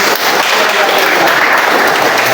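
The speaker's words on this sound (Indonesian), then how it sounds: "Tepuk tangan dulu." A classroom of students applauds together during a science lesson on how a car's mass affects its motion. The clapping is loud, dense and continuous, a steady wash of many hands close by for about two seconds with no talking.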